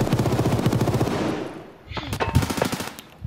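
Rapid bursts of automatic gunfire in the video game Escape from Tarkov on the Interchange map, a fast rattling stream followed by scattered single shots, loud and close with game-like effects.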